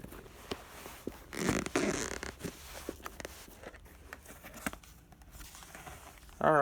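A zipper on a Skullcandy Crusher Wireless headphone carrying case is pulled open with short rasping bursts amid soft handling rustles, followed by a brief sharper sound at the end.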